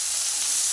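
Onions with green chilli, ginger, salt and turmeric sauté in a pan, giving a steady, close hiss of sizzling that holds without a break through a brief moment.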